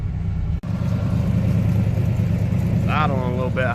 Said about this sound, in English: Idling a little bit high, but I just rebuilt the carburetor